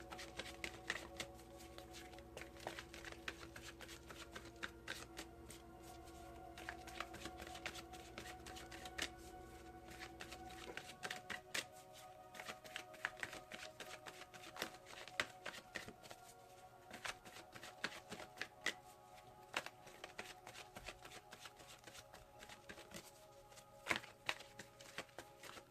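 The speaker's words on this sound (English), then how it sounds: "I'll do Colette Baron Reed's Wisdom of the Oracle cards. Can we get a card to clarify this for Taurus" Wisdom of the Oracle cards are shuffled in steady, soft riffling rustles close to the mic, with faint background hum and no speech, continuing for the whole stretch.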